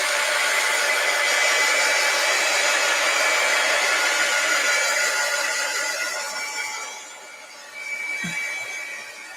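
A hand-held craft dryer drying paint on a winter garden card blows a loud, steady, whooshing hum for most of the time, easing lower near the end with a brief knock.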